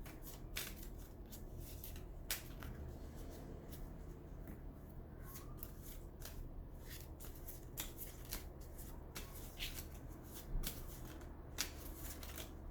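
Playing cards are shuffled again and again during a tarot reading, giving soft, close riffling bursts and crisp card snaps in an irregular rhythm over a quiet room, with no talking.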